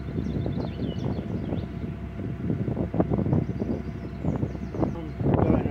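Cold May wind gusting on a canal, buffeting the microphone in a steady low rumble under continuous talk.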